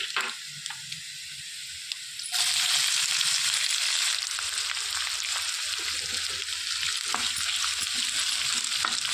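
Finely chopped onions dropped into hot oil with mustard seeds, the sizzle swelling suddenly to a dense, steady hiss and crackle with occasional stirring scrapes, close and loud.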